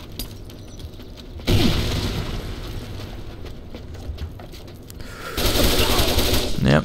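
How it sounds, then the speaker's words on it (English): A grenade blast and gunfire in the online shooter Crimecraft: two loud, sudden bursts of explosive noise with rapid machine-gun fire rolling between them, close and dense. "Grenade!"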